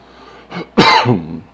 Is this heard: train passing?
no